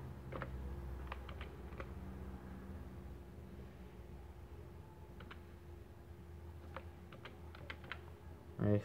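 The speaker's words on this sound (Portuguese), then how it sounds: "Você vai digitar esse aqui" Keys clatter on a computer keyboard during a phone setup tutorial, bursts of clicks arriving in short irregular clusters with pauses between them, fairly close over a steady low room hum and no talking.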